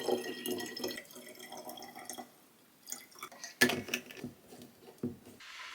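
White vinegar is poured from a larger container to top up a bottle on a bamboo tray in a laundry room, with soft liquid trickling and glugging broken by a few sharp bottle and cap knocks, close and quiet.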